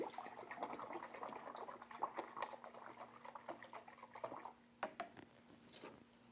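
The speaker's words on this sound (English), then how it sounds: "I'm going to give the brush a good rinse" A paintbrush being rinsed in a water container while painting a picture, giving close, soft watery sloshing and dripping with small clicks throughout, steady and fairly quiet with no talk.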